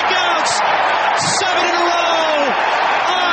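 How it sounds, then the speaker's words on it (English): A packed Nationals Park baseball crowd roars and cheers after a strikeout in the top of the seventh, a loud sustained wash of whoops and yells with an announcer talking over it. "Listen to this Nationals Park crowd."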